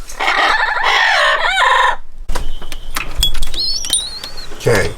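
Amazon yellowhead parrots give loud, harsh squawks and whistling calls at a wildlife facility, a sustained raucous burst followed by shorter sharp cries and rising whistles, close to the listener.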